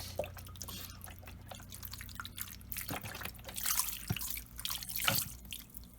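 Liquid trickling and dripping steadily into a crock pot, a soft continuous pour with a few brighter splashes, close and moderately quiet.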